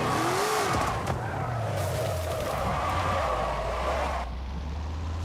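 A car in Forza Horizon 5, driven with a steering wheel on a drift setup, slides with loud sustained tire squeal over a revving engine that drops in pitch, then cuts off abruptly near the end.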